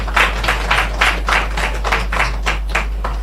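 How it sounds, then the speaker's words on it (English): Applause at the opening of a TPDCo office in Black River, Jamaica: a rhythmic run of fairly steady hand claps from a small crowd over a low constant hum. "Marlene Stevenson-Daly, I want to give her a very nice round of applause"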